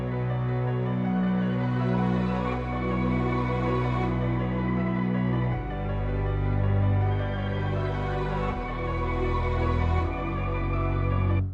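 A dark orchestral melody built in FL Studio for a trap beat, with sustained strings and low tones swelling in volume under heavy reverb, shifting chords every few seconds, full and continuous with no voices.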